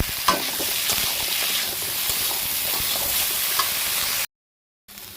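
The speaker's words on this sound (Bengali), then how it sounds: "নুন হলুদ দিয়ে ভালো করে লাল লাল করে ভেজে তুলে নেব।" Cauliflower pieces fry in hot oil with salt and turmeric, giving a steady, loud broadband sizzle with a few small pops; the sound stops abruptly near the end, then briefly resumes.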